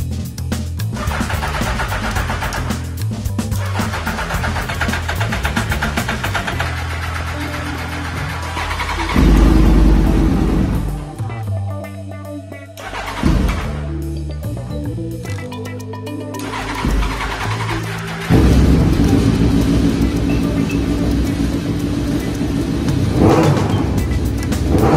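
A Suzuki Hayabusa motorcycle engine is cranked and started after repair, then revved several times, loud and close, with strong throttle blips, a brief dip into a rough idle and a sustained high rev toward the end.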